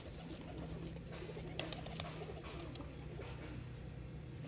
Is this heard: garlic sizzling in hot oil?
no